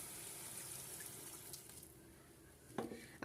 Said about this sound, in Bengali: এখন আমি এতে পর্যাপ্ত পরিমাণ পানি দিয়ে দেব।